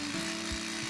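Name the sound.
cordless masonry drill drilling into hard concrete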